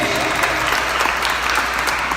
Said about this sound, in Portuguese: Aplausos da verdade.